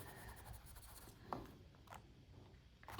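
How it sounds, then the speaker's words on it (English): A business card scrubbed across canvas to work in paint for a sponge-painted Turner-style sunrise: soft, close, quiet dry rubbing strokes, with a small scrape in the middle and a louder rub at the end. "get the business card again. Scrub that in."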